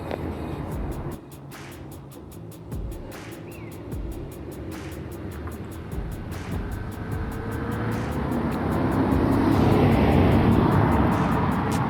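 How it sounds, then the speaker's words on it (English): On a countryside walking trail, a car approaches and grows louder to a broad rushing pass over several seconds. Wind buffets and rapid ticking clicks run through the start. "car coming"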